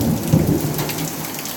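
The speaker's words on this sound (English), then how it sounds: "we've had the hail and now we've got the rain. It's still coming down." Heavy rain pours steadily just after a hailstorm, a dense close wash of falling water with a low rumble underneath and no voices.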